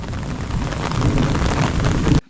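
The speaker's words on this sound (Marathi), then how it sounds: "आज पण पाऊस तुफान पडला आहे" Heavy Konkan rain pours down as a dense, steady, fairly loud hiss across the whole stretch, with no distinct thunderclap standing out and no voices.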